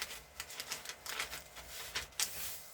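Newspaper is creased and folded by hand into a paper helmet hat, giving a run of soft crinkling, rustling taps at close range, fairly quiet and uneven with no talk.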